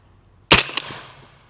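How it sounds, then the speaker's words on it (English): A single sharp rifle shot from an 8.6 Blackout cartridge, loud and close, with a sudden crack and a decaying echo tail trailing off over about a second. "A couple more shots."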